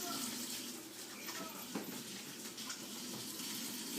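Hot water poured from a tap or container into a bowl for homemade tortilla dough, a faint continuous gushing trickle lasting several seconds, close by and fairly quiet, with no talk.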